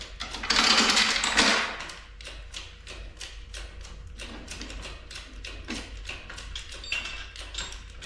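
A manual hoist is pumped up by hand, a quick run of rhythmic mechanical clicks and clanks repeating about twice a second, close by, after an initial burst of louder noise; no talk.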